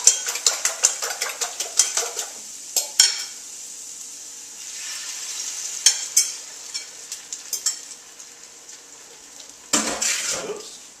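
Eggs for a frittata beaten in a bowl with a utensil, a fast run of sharp metallic clinks against the bowl, then pauses and a few scattered taps, with a brief louder clatter near the end.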